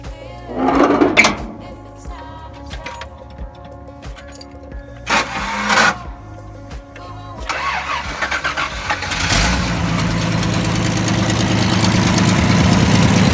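A Toyota Land Cruiser FJ60 engine cranks and rumbles to life, then settles into a steady, throaty idle with a few clunks and bumps early on.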